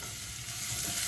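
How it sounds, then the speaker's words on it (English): Garlic and white onions frying in a pan, a steady close hiss of sizzling oil with faint stirring underneath, quiet and continuous with no voices. "And the garlic is starts sizzling and releasing its flavor"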